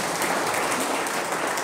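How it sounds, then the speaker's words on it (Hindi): Audience clapping at a Brahma Kumaris family class gathering, a steady dense wash of applause from many hands that continues throughout without talk. "ताली तो बजाओ भाई।"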